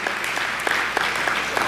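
A church congregation claps at a morning service for its volunteer teams. The applause is loud, close and steady throughout, with individual claps standing out.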